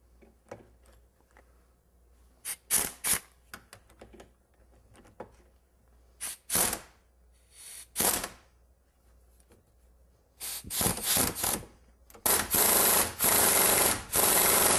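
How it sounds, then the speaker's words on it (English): A spring compressor works on a car suspension spring during a shock and strut replacement, giving scattered ratcheting and scraping bursts that grow into loud, sustained grinding near the end, close up with no talk. "Let's go ahead and start compressing the spring."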